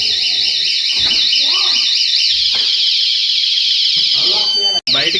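A house door alarm blares a loud, steady, warbling electronic tone almost throughout, cutting out for a moment near the end before resuming, while people talk beneath it.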